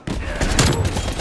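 Rapid burst of video-game gunfire, close and loud, a dense rattle of shots lasting about a second.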